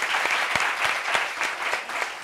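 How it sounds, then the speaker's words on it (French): A gathering of neighbours at a community meeting breaks into applause, a moderately loud, even patter of many hands with a few sharper claps standing out. "Applaudissements"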